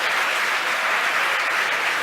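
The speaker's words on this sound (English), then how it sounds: "Hear the crowd cheer behind me" Dense, loud applause and cheering from a crowd watching a SpaceX Falcon Heavy launch at Kennedy Space Center, an unbroken wash of clapping at steady volume.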